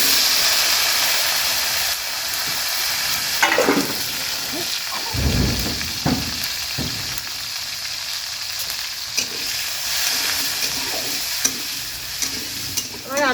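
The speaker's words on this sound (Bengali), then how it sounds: "এবার আলুটা দিয়ে দেব" Potatoes frying in hot oil in a pan, a dense steady sizzle with a loud burst of spattering as they go in, then intermittent stirring scrapes, close up, with little or no talk.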